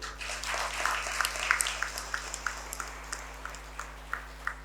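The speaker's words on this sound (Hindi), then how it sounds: "आपने तालियां बजाना चाहिए" An audience at an award ceremony claps, with scattered individual claps at a moderate distance over a faint steady hum and no talk.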